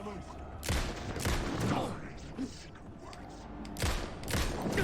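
Gunshots in Alan Wake 2 ring out in a few separate loud cracks spread across the moment, with someone talking in between.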